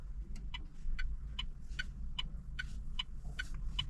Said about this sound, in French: J'aime pas le bruit des warnings et des clignotants